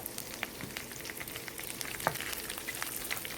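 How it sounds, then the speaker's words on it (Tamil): Thinly sliced garlic and curry leaves sauté in a pan with a soft, steady crackling sizzle and occasional light stirring scrapes, quiet and close. "5 பல் பூண்டு மெலிசாக கட் பண்ணது வதக்கிக்கலாம்."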